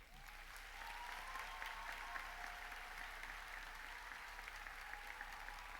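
A graduation commencement crowd applauds in a steady, sustained wash of clapping that fills the hall, with a brief whistle near the start and no break in the sound.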